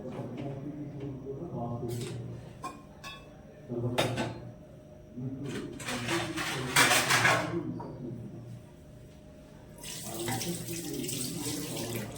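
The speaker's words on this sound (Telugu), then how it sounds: "వాటర్ వేస్తున్నా" Water poured into a cooking pot while preparing veg biryani, heard as intermittent splashing and running-water bursts with clinks of utensils, fairly close, ending in a sustained pouring rush.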